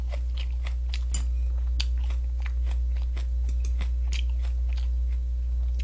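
Someone chewing BBQ honey garlic fried chicken, giving a steady run of close, crisp crunches and bites over a constant low hum.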